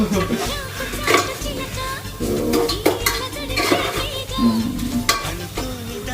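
Small pakki fish fry in a pan for a Nellore-style curry, with hissing oil broken by repeated scraping stirs and clinks of a utensil against the pan, close and fairly loud.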